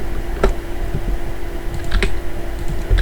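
Close, rapid keystrokes on a computer keyboard while writing Unity code, irregular clicks over a steady low fan hum.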